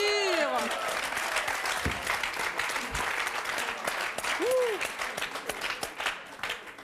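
A studio audience applauds throughout, a dense steady patter of clapping while voices talk over it.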